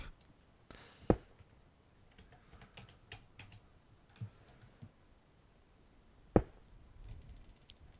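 Sparse mouse clicks during a game of Minecraft, a few crisp clicks with two louder ones well apart, set against soft, quiet tapping in a calm room.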